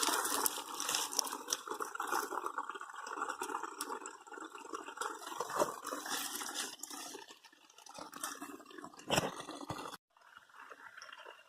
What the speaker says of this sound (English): I found the source of this running water sound